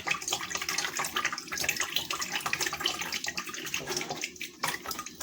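Water pouring steadily from a tap while green juice is being made, a continuous close splashing rush with a gurgling, faucet-like texture and no talk over it.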